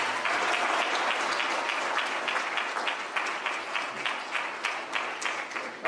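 Sustained, full applause from a seated audience at a 2022 high school athletic hall of fame induction fills the room throughout, with individual sharp claps standing out near the end as it begins to ease.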